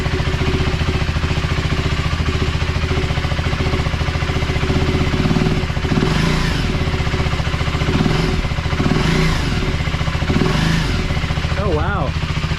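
Husqvarna Svartpilen 401 motorcycle fitted with a FuelX Lite, its engine idling with a steady close thump and rising in several short revs, while someone talks over it.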